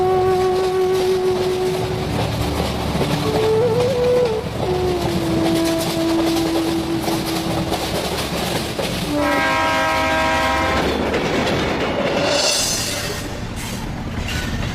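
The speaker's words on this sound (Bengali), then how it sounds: "ট্রেন যখন ঘুম স্টেশনে দাঁড়ালো" A train rolls into a hill station in an animated horror story, its horn sounding in long sustained tones and a second horn blast mid-way, over steady rumbling and clattering of rail cars throughout.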